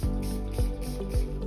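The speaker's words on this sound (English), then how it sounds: "So you just need to spray it again like this" Short spritzes from a spray bottle misting water onto a gel medium image transfer, three quick bursts in a row close to the mic, each with a soft hiss.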